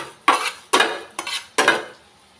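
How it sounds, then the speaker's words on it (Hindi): Whole spices dry roasting in a pan for Kashmiri achari chicken, heard as four separate bursts of rattling, scraping clatter as they are stirred and tossed, each fading before the next, with no talk. "अपने खड़े हुए मसालों को रोस्ट कर लेंगे हल्का सा"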